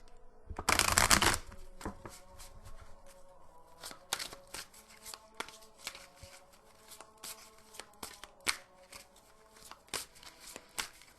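Tarot cards being shuffled before a reading: a loud riffling burst at the start, then a long stretch of close, quiet card slides, taps and flicks in an uneven rhythm, without talk.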